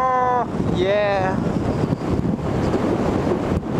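Strong wind buffets the microphone of a motorcycle rider heading into the mountains, a loud continuous roaring rush. A voice calls out near the start over the noise.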